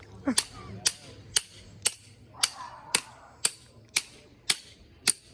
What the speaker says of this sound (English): I'm really worried about breaking this dude's wrench that he lent me.